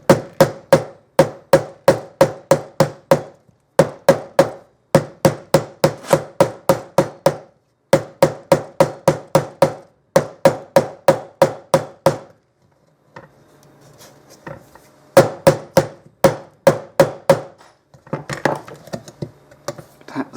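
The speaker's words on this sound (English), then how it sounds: "tap the seal driver in" Sharp metallic taps from a hammer striking a seal driver during Moto Morini clutch assembly, delivered in rapid rhythmic runs with short pauses between groups, close and loud.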